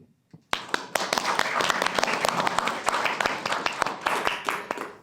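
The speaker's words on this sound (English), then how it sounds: "Round of applause." After a quiet moment and a faint tap, a city council meeting chamber erupts into brisk applause for honorees, many distinct claps rising quickly and continuing at a steady moderate level to the end.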